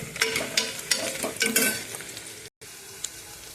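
Vegetables such as carrots being stirred and fried in a pan for vegetable biryani: scraping spoon strokes in uneven bursts over a soft sizzle, close and fairly quiet, with a brief dropout near the end.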